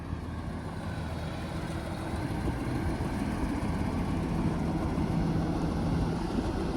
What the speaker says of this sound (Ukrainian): І от скільки снігу пхає перед собою трактор.